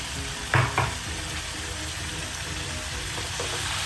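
Pumpkin, radish with its leaves and potato curry frying in a pan, a steady close sizzle with a couple of brief louder stirring scrapes near the start.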